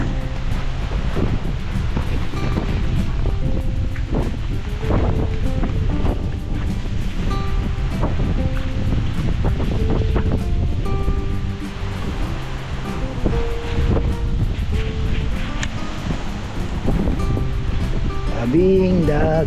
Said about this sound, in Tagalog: Ayan, sa tabing dagat kami.